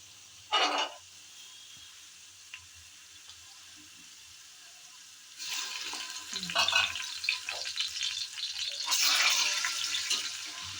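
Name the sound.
ginger garlic paste frying with browned onions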